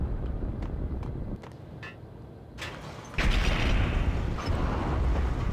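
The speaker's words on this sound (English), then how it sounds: "That's an explosion and I'm running towards it." A loud explosion in the Max Payne video game erupts partway through as a broad, rumbling blast, rising out of a steady backdrop of game noise and lingering at full volume.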